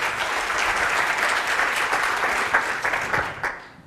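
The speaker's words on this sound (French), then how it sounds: "Applaudissez-vous." Audience applause fills the room, steady dense clapping from a crowd throughout, fairly loud and close, tapering off slightly at the end with no talk over it.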